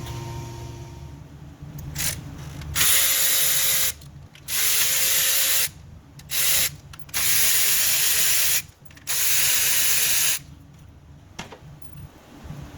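A power ratchet whirs in several loud bursts of a second or two, separated by short pauses, while removing valve cover bolts on a 2007–2011 Toyota Camry.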